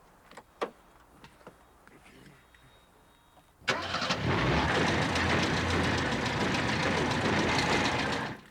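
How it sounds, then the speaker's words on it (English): A few light clicks and knocks, then a car engine cranks and roars to life, settling into a loud, steady running rumble. "I think it's time to fire up the engine"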